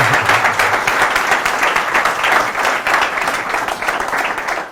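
Audience applause for the presenter at a medical talk, steady dense clapping from a seated crowd held at a loud even level throughout, alone with no voices over it.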